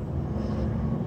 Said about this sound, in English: Look at this, all these planes.